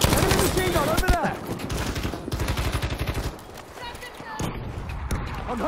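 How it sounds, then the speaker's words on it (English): Rapid bursts of enemy machine gun fire in Battlefield 5, rattling repeatedly under shouted voices and battlefield noise with other distant shots. "Enemy machine gun over there."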